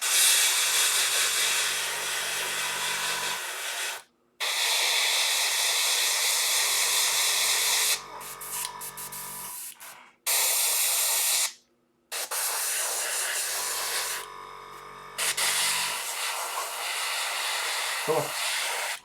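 An airbrush sprays red paint onto a Warcry miniature in repeated hissing bursts, each steady and close, broken by short silent gaps over about twenty seconds.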